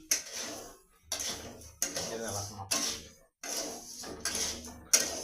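Salted fish goes into a frying pan, heard as a series of clanking metal-on-pan clatters and scrapes in a home kitchen, several distinct bursts separated by short pauses, with a voice talking between them.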